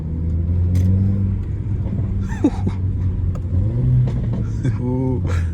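Mercedes CLA 45 with a loud aftermarket exhaust, heard from inside while driving: a steady close engine drone with rising revs, and someone talking over it.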